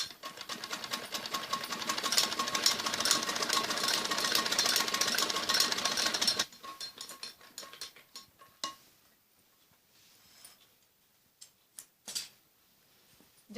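A sewing machine stitches a kameez neckline with buckram in a fast, even run for about six seconds, then stops, leaving a few sparse clicks and handling taps in near silence.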